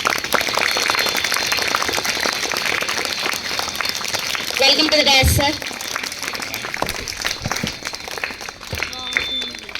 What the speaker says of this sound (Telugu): చప్పట్ల ద్వారా ఆహ్వానిస్తూ ఉన్నాము.